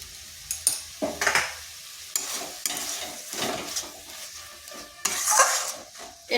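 A spatula stirs a moist cabbage mixture seasoned with sugar and garam masala in a pan, giving irregular scraping strokes over a soft sizzle, close and moderately loud with no talking.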